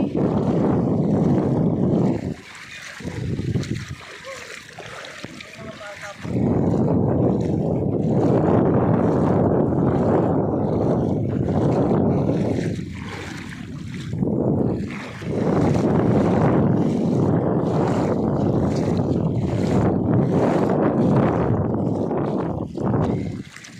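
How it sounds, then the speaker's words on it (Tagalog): Strong gusts of sea wind buffet the microphone in loud, roaring bursts that briefly drop away and return, with a watery wash of waves underneath, at Paguriran Beach. "Mahangin kasi."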